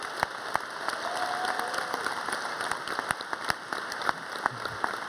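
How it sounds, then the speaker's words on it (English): A large summit audience applauds, dense clapping with scattered sharp claps heard from a distance, moderately loud and without talk. "Would you just give him a huge cheer of and a wave"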